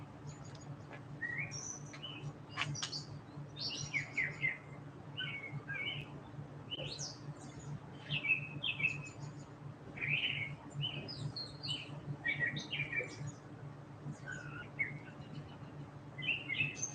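Small birds, including chickadees, chirping outdoors near a bird feeder, scattered faint calls and tweets repeating throughout over a low steady hum.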